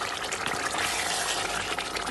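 About half a cup of water is poured into mutton kofta masala to make gravy, a steady close trickling and splashing pour running for a couple of seconds without any speech.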